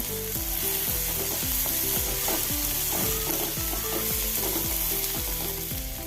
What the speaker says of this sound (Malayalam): നൈസായി അരിഞ്ഞത് വിട്ട് കൊടുത്ത് ഒന്ന് ഇളക്കി കൊടുക്കുക